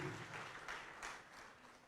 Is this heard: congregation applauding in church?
yes